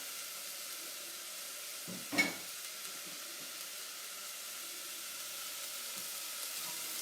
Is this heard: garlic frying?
yes